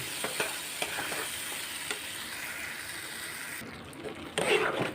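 Potato curry spices frying on a low flame in a pan, a soft continuous sizzle with scattered light stirring clicks, then a brief burst of louder hiss near the end, no talking.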